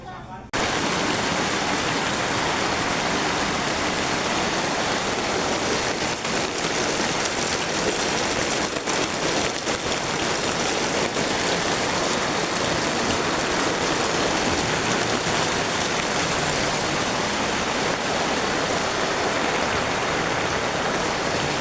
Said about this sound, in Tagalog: inabutan na sila ng ulan